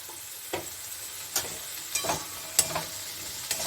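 Drumsticks (moringa pods) are stirred into a spice mix frying in a pan, making a low sizzle broken by several sharp clinks and scrapes at irregular intervals, fairly quiet, with no voices.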